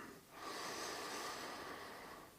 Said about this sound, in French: Ok, prenez quelques respirations.